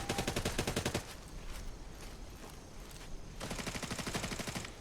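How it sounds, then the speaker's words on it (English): Rapid automatic gunfire in a video game, an even burst of shots for about a second, then quieter rumbling play, then another sustained burst near the end. "What's he shooting at?"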